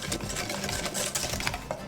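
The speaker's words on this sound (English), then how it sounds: "we'll start off with our whisking our sugar," A whisk beats sugar, brown sugar and egg together for a s'mores cake batter, producing a steady, close, rapid scraping and clatter with no voices.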